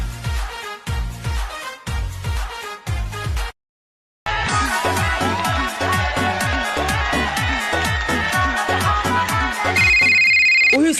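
A melodic phone ringtone plays loud and continuous, repeating its tune steadily after a short silence, with a bright high chime layered in near the end.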